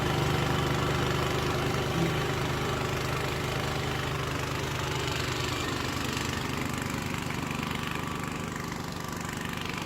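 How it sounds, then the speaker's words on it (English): A snow blower engine runs steadily through a snowstorm, a close, continuous mid-pitched drone with a slight rhythmic chug that holds for the whole stretch and eases a little toward the end, with no voices. "Thank goodness for that snow blower"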